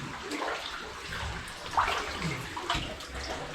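Water running through a lead mine passage at Nenthead, Cumbria, a steady close trickle and splash with no talk over it.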